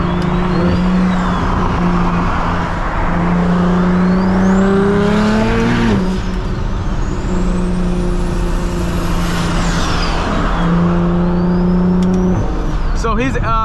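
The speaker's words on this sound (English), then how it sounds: "That thing do be spooling up though." A BMW 335i fitted with a big single turbo revs hard and loud with the turbo spooling up, its engine pitch climbing, falling back and climbing again, while voices talk over it.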